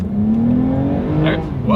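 A 2020 Toyota Avalon TRD accelerating hard in sport mode, with a loud, steady engine note rising in pitch from inside the cabin.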